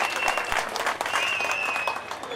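A crowd at a temple festival in Koovilapuram claps in a sustained burst of applause, with a few sharper claps standing out near the start and a voice talking faintly underneath.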